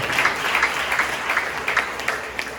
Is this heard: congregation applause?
yes